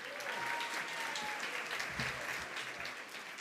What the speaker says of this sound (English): Another round of applause for Roy, yeah?